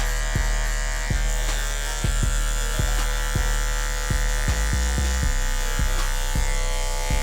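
Detachable-blade electric hair clippers cut a fade, giving a loud, constant close-up buzz with regular soft bumps as the blade sweeps through the hair.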